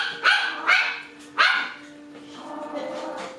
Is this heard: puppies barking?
yes